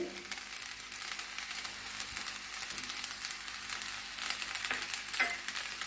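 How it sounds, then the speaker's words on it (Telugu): Paneer fried rice with carrot and masala being stirred in a frying pan: a steady close sizzle runs throughout, with soft scraping of the spatula through the rice. No one talks. "ఇలాగా కలుపుకోవాలండి ఇట్లా ఎందుకంటే ఇది ఫ్రైడ్ రైస్ కదండి"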